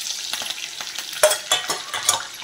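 Mustard seeds and curry leaves crackle and spit in hot oil, a close, busy patter of small pops and sizzles rising into a few louder bursts.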